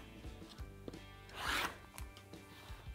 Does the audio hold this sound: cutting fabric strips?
yes